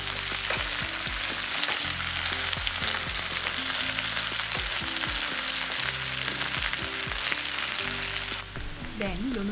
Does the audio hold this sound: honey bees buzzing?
no